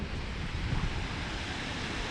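Steady sea surf washes in where Hill Inlet meets the sea in the Whitsundays, a continuous broadband roar mixed with wind buffeting the microphone, with no voices.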